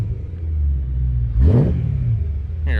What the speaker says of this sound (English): It's nice and deep and throaty sounding, compared to the stock exhaust that was modified.